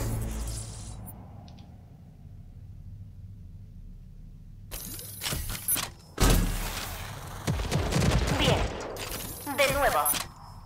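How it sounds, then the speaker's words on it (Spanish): A smart rocket launcher in the video game Rage 2 locks onto an enemy and fires several guided rockets, a burst of whooshing launches and blasts that builds to loud overlapping explosions after a quiet stretch. "El lanzacohetes inteligente puede fijar a un enemigo y lanzar varios cohetes guiados."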